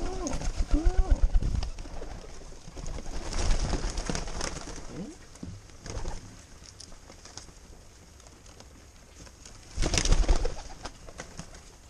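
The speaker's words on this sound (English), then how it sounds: "Will the wood pigeon come down for the food?" A wood pigeon gives soft repeated coos outdoors near a feeding spot, low hollow calls in a rhythmic phrase at the start and again near the end, with rustling and background noise in between.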